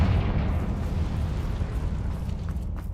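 A fiery spell blast rumbles with a deep, sustained roar in a wizarding action-adventure game, heavy and low without a sharp attack.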